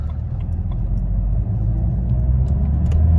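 A 14-year-old Alpina D3 with around 200 horsepower pulls away under acceleration, its engine a steady, loud low rumble heard from inside the car and gradually building.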